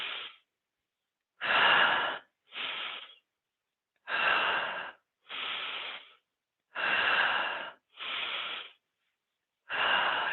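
Audible breaths during a yoga session, eight breathy, hissing airflow sounds roughly a second long, near and fairly loud, spaced by short silences in a slow, regular rhythm.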